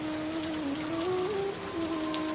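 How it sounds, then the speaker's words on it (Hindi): Steady rain falls and patters on the ground, a continuous soft hiss that a sustained, gently wavering tone runs over throughout. "बरसती बारिश की बूंदों को जमीन में जज्ब होता देखता हूं"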